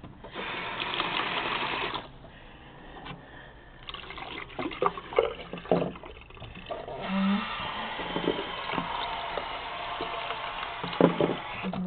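Warm tap water runs to rinse out a hamster cage, a continuous splashing flow mixed with plastic knocks and clatter as the cage is handled, louder at first and then more broken.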